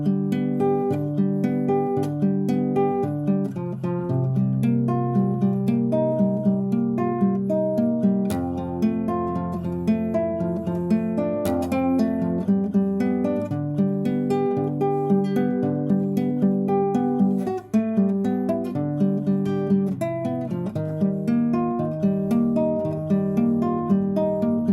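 An instrument arrangement in a Forbidden Island tuning with an added low C bass note, a steady melodic line over a sustained deep bass, played continuously at an even, moderate volume for about twenty-five seconds with no voices.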